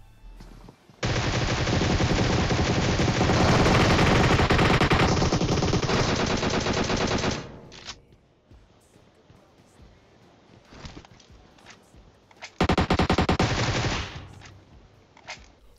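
Automatic rifle fire in PUBG Mobile, a long loud sustained burst of rapid shots for several seconds, then scattered quieter sounds and a second short burst near the end, with no talking over it.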